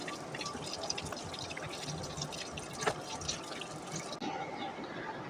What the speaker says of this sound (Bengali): আমি আমগুলাকে একটু ভালো করে ধুয়ে প্রসেসিং করে নিচ্ছি